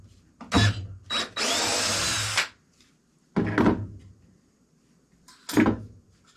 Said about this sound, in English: Yeah, it did crack it, so we'll have to re-drill that one.